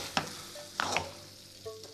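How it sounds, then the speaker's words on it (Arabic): A spoon stirs and mixes food in a pan with a soft background sizzle, giving a few quick scraping strokes, fairly quiet and close. "نخلطوهم مع لي بات تاعنا ونزيدو لا ميروبو د ليغوم تاعنا"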